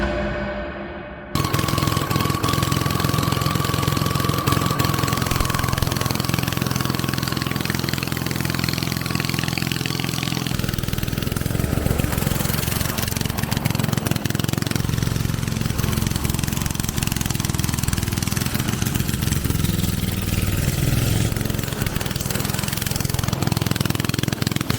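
A restored ride-on lawn tractor mower drives across a soaking wet lawn, its engine running loud and steady for the whole stretch with small shifts in pitch, close by and with no talking.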